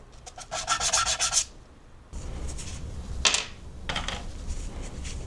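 Glued-in wall-mount magnets being sanded by hand in rapid rasping strokes: a dense burst of scrubbing, a pause, then further shorter rubbing passes, close and fairly loud with no talking.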